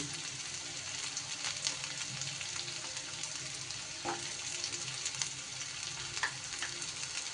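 Garlic cloves fry with chicken and spices in a hot pan, a steady close sizzle holding throughout with faint stirring scrapes.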